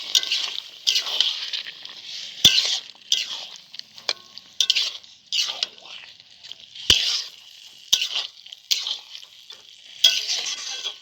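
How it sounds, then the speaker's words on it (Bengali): Vegetables with aubergine stirred in a pan with a splash of water, a steady close sizzle and wet scraping swishes repeating in uneven strokes, with a few sharp clicks of the spoon against the pan. "একটু হালকা জল দিয়ে একটু নাড়াচাড়া করে নিই"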